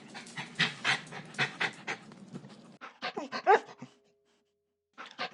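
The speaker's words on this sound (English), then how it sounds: "Your bark is definitely worse than your bite. You're just a big softie." A dog pants heavily and rhythmically up close, quick breathy huffs with a few small whimpers, pausing briefly before the panting starts again.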